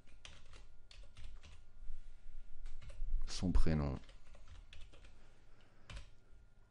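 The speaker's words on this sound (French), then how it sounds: "On va taper son nom" Rapid clicking of fingers typing on a computer keyboard during a data-entry test in Access 2010, with bursts of keystrokes around a person speaking French.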